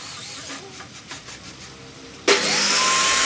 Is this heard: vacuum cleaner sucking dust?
yes